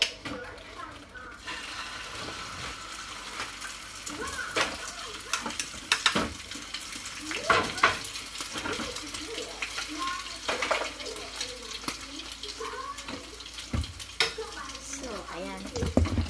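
Food sizzles steadily in a hot pan while a quick easy meal for kids is cooked at home, with clattering stirs and utensil knocks over the continuous crackle and a voice talking intermittently.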